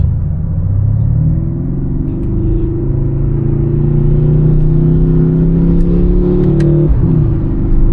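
Mercedes-AMG C63 S coupe (W205) heard from inside on a drive, its engine a loud, deep, continuous rumble that climbs steadily in pitch under acceleration before a brief break near the end.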